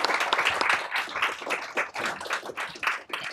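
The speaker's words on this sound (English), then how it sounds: "I want to first give a round of applause to this wonderful panel." Audience applause for a panel at an employee share ownership event, a dense steady roar of many hands clapping close and loud, continuing evenly for a few seconds with no voices.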